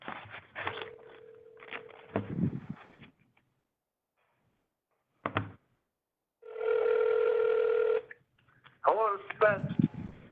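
A telephone call is placed, with a steady electronic tone, a longer buzzing ring tone and brief clicks, broken by silence, while voices talk nearby and pick up the line.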